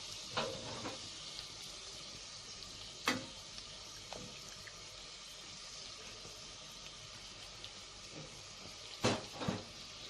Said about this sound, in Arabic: وهحط المكرونه التانيه الصغيره، وهنحط معلقه من الزيت اللي حمرنا فيه البصل